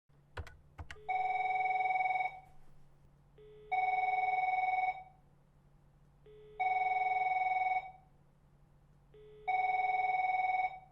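A telephone rings four times in an even repeating pattern, each electronic ring lasting over a second with matching gaps between, clear and fairly close after a couple of sharp clicks at the start.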